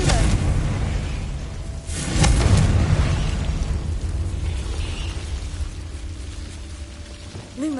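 Blast from the Confringo fire spell in the game Hogwarts Legacy: a loud, broad booming burst with a crackling tail, over dense background game rumble.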